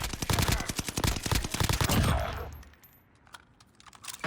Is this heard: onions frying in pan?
no